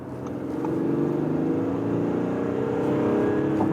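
An Audi A6 sedan with a petrol engine accelerates hard in S mode from about 65 to 100, its engine note climbing steadily and growing louder, heard from inside the car with no talking.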